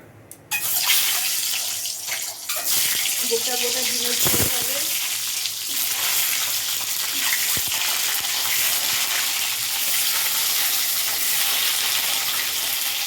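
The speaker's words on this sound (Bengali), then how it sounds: "যেখানে তেল গরম করতে বসিয়ে দিয়েছি ডিমগুলোকে ভাজবে" Country chicken eggs fry in hot oil in a home kitchen, a steady close sizzle running unbroken through the whole stretch, with a few brief clatters near the start.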